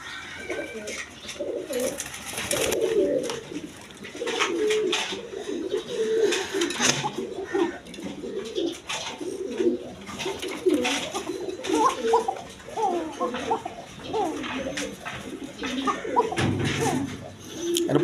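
Pigeons of various breeds, kept by a wholesale pigeon seller, coo repeatedly in soft rounded bursts, overlapping and fairly close, with faint background noise.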